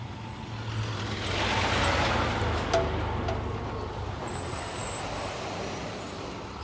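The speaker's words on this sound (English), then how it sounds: "Got a big power and light truck over time" A large power and light utility truck passes along a street, a broad rumbling engine swell that builds and fades over several seconds, with a brief hiss or clank in the middle and steady traffic noise behind.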